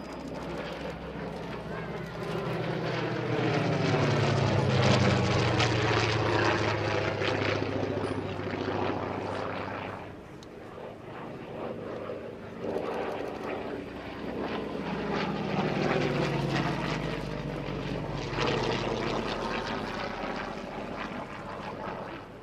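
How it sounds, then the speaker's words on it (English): Yak-11 propeller training aircraft flying at an air show, a loud droning piston engine and propeller roar that rises, dips and rises again as the plane passes, with someone talking over it. "was the Yak-11 training aircraft like the one you see here"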